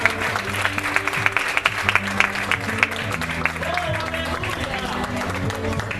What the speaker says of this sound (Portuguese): Que a igreja dê uma linda salva de palmas para o Senhor nesta noite.